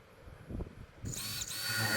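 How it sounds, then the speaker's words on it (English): A power drill bores holes in wood for the monkey bars of a homemade climbing frame. It whirs up loudly partway through, after a few soft handling knocks, and runs steadily to the end. "drilling the holes for the monkey bars"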